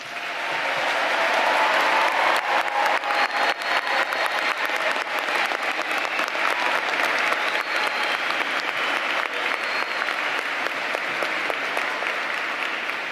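A large audience at a university graduate commencement applauds after the conferral of doctoral degrees, a dense, sustained roar of clapping that holds steady at full strength for over ten seconds.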